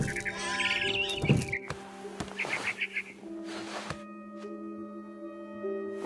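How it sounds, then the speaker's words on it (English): Bright, synthetic barn swallow chirps and twitters from the video game What Remains of Edith Finch come in short bursts over sustained electronic tones, then fade into a quieter humming background. "It was a barn swallow going back to her nest."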